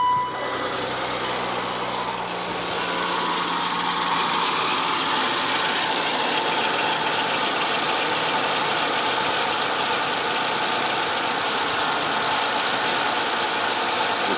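A cold car engine idles steadily at close range, a continuous even rumble with a faint mechanical ticking and no voices.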